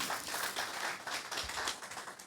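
A crowd applauds at the 2019 Trophées Foot football awards ceremony, with steady scattered clapping that stays soft and somewhat distant throughout.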